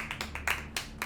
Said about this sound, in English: I'm just gonna start like slowly clapping.